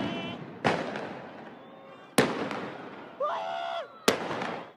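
Several sharp fireworks blasts go off at irregular intervals, with a crackling tail after each and a whistling rise in between, amid a noisy outdoor background.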